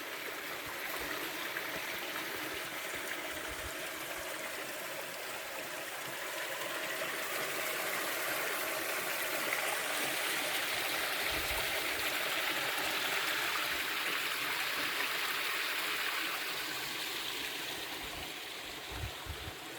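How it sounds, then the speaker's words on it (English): Water of a stream running through the mountain village of Kalopanayiotis in Cyprus's Troodos range in the early morning, a steady broad rushing that swells a little midway and continues throughout with no talking. "there's the water running through the village"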